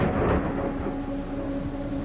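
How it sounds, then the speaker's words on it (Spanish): A thunderclap rumbles through a house as violent rain pounds the roof, a loud, steady roar of downpour continuing without a break under the deep boom. "un trueno sacudió la casa y una lluvia violenta comenzó a golpear el techo"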